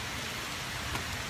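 Steady rain pours down during a summer storm, a dense, even hiss of falling water heard alone without voices.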